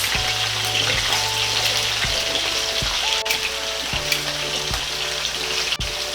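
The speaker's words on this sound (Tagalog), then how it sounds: "Mabilis lang maluto itong ating patatas kasi yung ating mantika ay talagang napakainit na." Potatoes frying in very hot oil, a continuous loud sizzle and crackle with scattered pops and faint clinks of a utensil.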